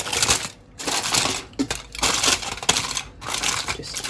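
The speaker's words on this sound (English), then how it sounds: "we're just going to cover it like that with the foil." Aluminium foil pressed and crinkled over a pot of rice and peas on the stove, heard as a close, continuous crackling crunch with a few short breaks.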